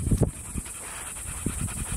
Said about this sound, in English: we got a lot of dogs